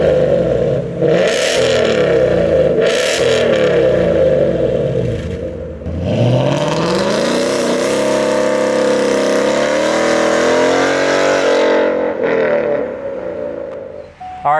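A 2019 Ford Mustang GT in Velocity Blue, fitted with a Roush quad-tip catback exhaust, blips its V8 in two sharp revs, then rises in a long, loud acceleration pull before easing off, heard close.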